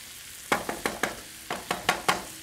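Wild turkey pot pie filling heats in a pan, a quiet sizzle broken by about eight sharp, rhythmic scraping stirs in two quick bursts.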